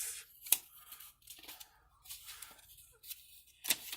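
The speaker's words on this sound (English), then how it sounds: "Put the coils into the Recurve RDA and cut the extra parts clearly enough" Coil wire and cotton wick on a Recurve RDA vape atomizer being snipped with scissors, a few sharp close cuts and rustling handling noises in a quiet room.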